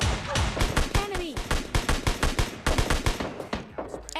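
Rapid bursts of shotgun fire in PUBG Mobile Lite, loud and close, fire in quick succession with short gaps, mixed with game action and some voice.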